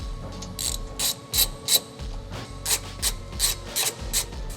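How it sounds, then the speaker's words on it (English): A ratchet wrench with a 15mm socket backs off strut tower brace nuts on a G87 M2, giving repeated short bursts of rapid clicking close by, with brief pauses between pulls and no talking. "Using a 15mm socket, we're going to remove all 4 of them from both sides."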